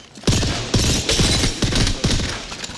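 Bursts of video game gunfire crack out in a steady rhythm, roughly five or six sharp, loud shots spaced about half a second apart, each with a short echoing tail, and no talking over them.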